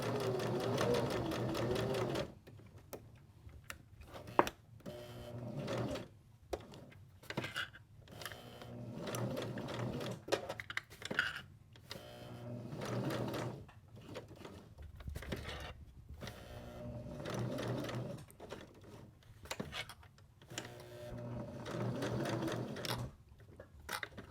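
A home sewing machine stitches the edge of a fabric bunny ice pack in short whirring bursts, stopping and restarting several times with quiet pauses between runs, close and fairly soft.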